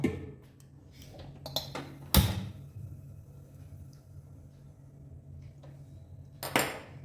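A sharp metallic clank of a metal wok set down on a gas stove, with a second clatter near the end, over a low steady hum.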